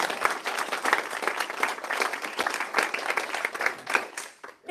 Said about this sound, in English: again with a round of applause